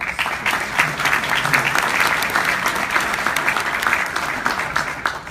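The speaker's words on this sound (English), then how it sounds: "Please give them all a round of applause." A conference audience at a capital markets event applauds the organizing staff, steady dense clapping that holds at an even level throughout.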